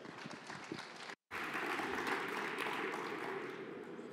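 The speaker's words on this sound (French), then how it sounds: "On vous applaudit et on vous écoute." A conference audience applauds in a dense, even burst of clapping that continues for a few seconds after a brief cut, heard moderately close in a hall.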